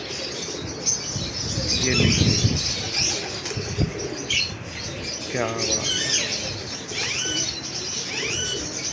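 Pigeons flap their wings in a breeder's loft, bursts of feathery fluttering and scattered squawks and chirps around someone speaking close by.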